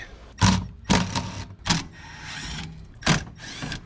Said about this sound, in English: So we'll remove these. They're all 10 mil, so it's super easy.